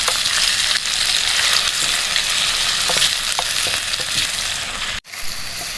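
Chopped onions and potatoes frying in a pan, a loud continuous hiss of oil close by with faint spoon scrapes and a brief break near the end, no talk.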